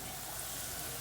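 Veal rolls with stuffing sizzle in a hot pan, a steady close frying hiss with faint crackles throughout the brief moment.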